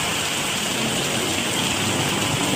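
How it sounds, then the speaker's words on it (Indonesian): Steady, dense rain pours down in a village during a dry season's end, a continuous hiss of drops on surfaces, close and loud with no voices. "Alhamdulillah kemarau panjang akhirnya hujan."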